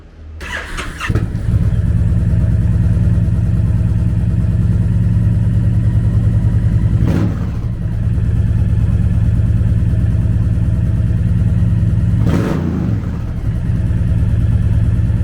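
A 2020 Honda VT1300CX Fury with a 1312cc V-twin starts up, then idles loud and close with a steady deep lumpy throb, broken by two brief revs partway through.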